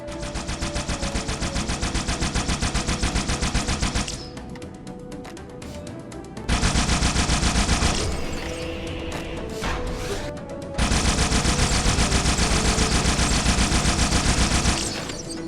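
Dual-wielded Needler firing in Halo 2, fast rapid-fire crystalline bursts in long loud continuous volleys, broken by a short pause with reload clatter, close and without talk.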